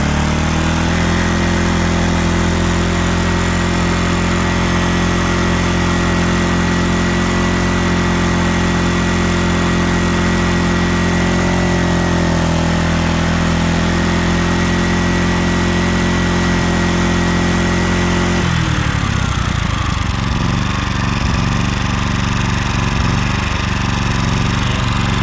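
A Honda EX1000 portable generator with a suspected carburetor fault runs loudly and close up, a steady droning engine note that shifts to a rougher, unsteadier sound near the end.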